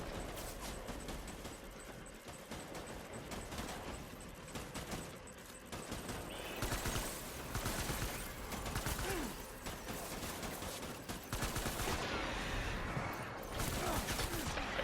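Gunfire in the video game Death Stranding, dense rapid volleys of shots rattling almost continuously for the whole stretch at a moderate level.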